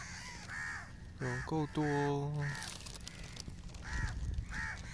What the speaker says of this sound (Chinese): 最近乌鸦特别多